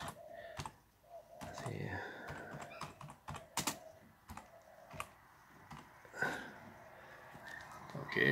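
Quiet, close typing on a computer keyboard, with irregular clusters of key clicks and short pauses, as an envelope address is entered for printing on an HP ENVY 7855 printer; a faint sniff or breath is audible between keystrokes.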